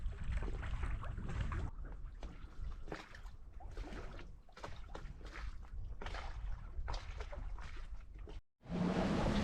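A small sailboat moves gently under wind, with soft water washing along the hull and wind buffeting the microphone, steady and low, a muffled gap near the end before the rush returns.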